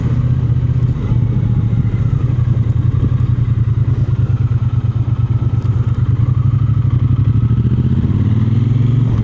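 A Triumph T120 motorcycle engine runs steadily at a low, throbbing idle with a regular mechanical pulse, loud and close throughout without a break.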